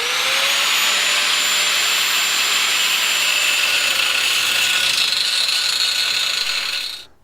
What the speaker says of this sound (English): Let's get this aluminium cut.